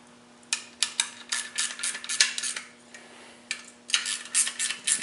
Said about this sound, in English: Just going to do that again with the 3/8 ratcheting wrench.